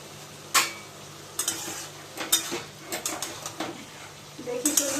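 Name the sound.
ash gourd curry with hilsa head boiling in pot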